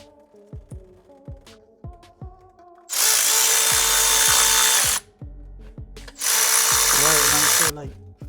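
Power tool driving bolts on the fuel rail of a 2018 Chrysler 300, two loud sustained whirring bursts of a couple of seconds each, separated and preceded by small metallic clicks and taps nearby.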